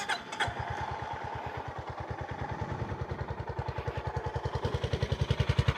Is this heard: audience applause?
no